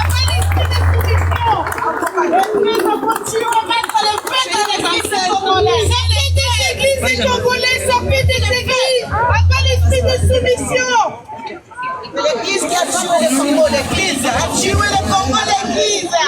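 Crowd at an outdoor Free Congo street protest bursts into loud applause and cheering, with clapping, whoops and shouting voices swelling in waves over steady crowd babble, briefly dipping before rising again.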